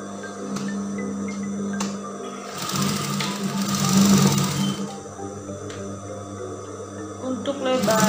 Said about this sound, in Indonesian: Caranya kita jahit kayak gini.